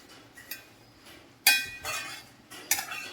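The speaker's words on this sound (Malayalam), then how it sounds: "ഇനി ഇത് പതുക്കെ നമുക്ക് ഇളക്കി കൊടുക്കാം" Pumpkin leaves being stirred in a pan, giving a few sharp metallic clinks and scrapes of a utensil against the pan, spaced out and fairly close.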